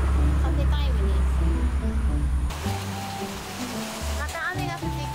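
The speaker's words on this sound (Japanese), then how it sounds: "また雨が降ってきました。" Heavy rain during a storm warning in Khao Lak, Thailand, makes a dense, loud wash that is strongest at first and then eases, with music playing over it.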